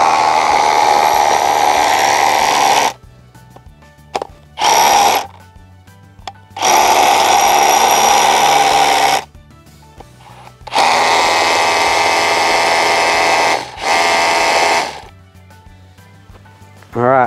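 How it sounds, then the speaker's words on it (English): A power drill drilling into the ground whirs loudly in several bursts of two to three seconds, stopping and restarting, with a low idle hum between runs. "we're gonna try and drill this down so we can get all those pipes in"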